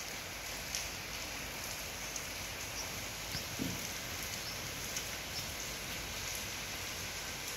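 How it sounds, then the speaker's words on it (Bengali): Steady morning rain falls with wind, a continuous even hiss with faint scattered drops and occasional soft patters, moderately quiet and without any voices. "সকাল থেকেও বৃষ্টি হচ্ছে একটানা, এবং সঙ্গে বাতাসও রয়েছে"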